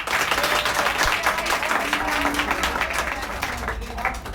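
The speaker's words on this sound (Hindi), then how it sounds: "तो सबसे पहले तो बिट्टू के लिए तालियां हो जाए।" An audience claps for a student selected for Agniveer at a training institute, a steady crowd applause of moderate loudness that fades slightly toward the end.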